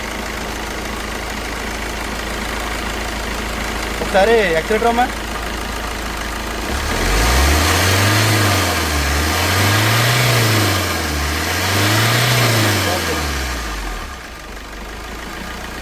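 A 2012 Tata Indica Vista LS diesel car engine idles close by, rising in several slow revving swells before easing back, with someone talking briefly at the start.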